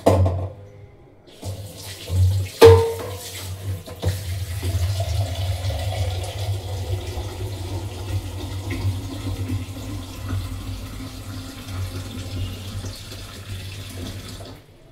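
Water is poured in for a first fill, a steady continuous stream that starts after a brief pause and runs, fairly loud and close, for most of the stretch with no talking.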